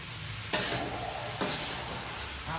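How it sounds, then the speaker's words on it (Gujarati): Okra drops into a pan of frying potatoes, bringing two bursts of louder sizzle over a quieter steady hiss, heard close with no talk. "જુઓ, હવે આપણે આમાં ભીંડો નાખશું."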